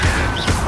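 Confringo spell cast in Hogwarts Legacy on hard mode: a short, loud crashing impact burst lasting under a second.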